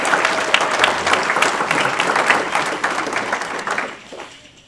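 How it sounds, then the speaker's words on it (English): A room full of people applauds an honored educator at a county Board of Education meeting, dense continuous clapping close by that holds steady for about four seconds before tapering off. "Please give Mrs. Bowers another round of applause"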